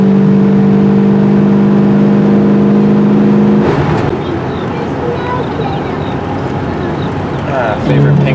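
A 1979 Chrysler 300 / Dodge Magnum XE cruises down a freeway, its engine a loud steady drone inside the cabin with a strong tonal hum that gives way partway through to broadband road and wind roar.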